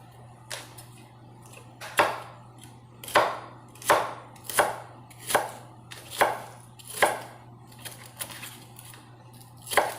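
A knife chops turkey necks on a kitchen cutting board in a steady, fairly even rhythm of about ten sharp, close thwacks over a low constant hum, with no talking.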